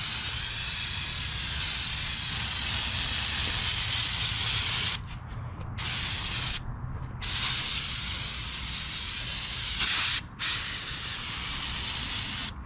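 Cleaner is sprayed steadily across a car engine bay as a loud continuous hiss, broken by a few short pauses between bursts.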